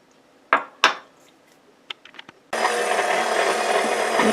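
Egg and three tablespoons of melted shortening being mixed into yeast doughnut dough: a few clattering knocks against a bowl, then a steady loud whirring mixer that runs continuously to the end.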